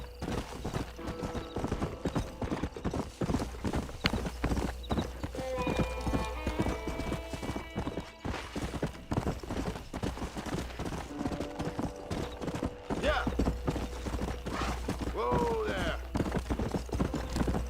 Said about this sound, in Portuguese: Consegue descer aqui sem cair, cavalo?